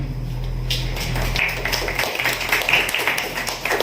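An audience at a school event claps together, a quick cluster of hand claps that starts after a second and runs on unevenly, fairly close in the room.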